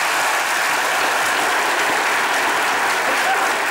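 Dense, loud studio audience applause at a Turkish comedy show, an even wash of many hands clapping continuously without breaks.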